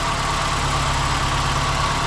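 A Porsche 944 with a 2.5-litre inline-four engine idles close by: a steady, even rumble with a low, throbbing pulse and no change in pitch.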